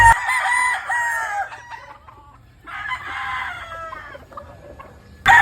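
A gamefowl rooster crows twice at close range, each call a long strained cry, with quiet gaps between them.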